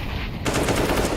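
Counter-Strike SMG fire at close range: a rapid, loud burst of automatic shots starting partway through the moment and running steadily to the end, with no talk over it.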